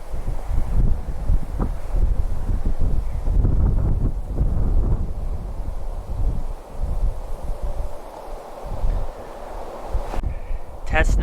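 Wind buffets the microphone of a Sony ZV-1 camera fitted with an external Sony mic on a windy outdoor day, a steady rumbling roar with gusty low thumps throughout, ending in a brief higher-pitched whine.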